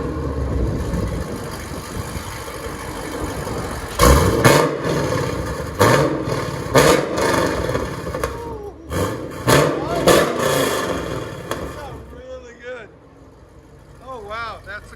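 A 2010 Chevy Camaro SS with a 6.2L V8, factory X-pipe and CORSA dual exhaust mufflers idles with a deep rumble and then revs several times, with people talking over the engine throughout.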